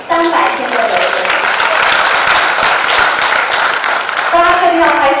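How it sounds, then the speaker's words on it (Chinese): Audience applause fills the hall during a conference talk at the g0v summit 2016, a dense, loud, sustained clapping wash lasting several seconds while the speaker's voice cuts in over it at the start and end. "大家确定要拍手吗？"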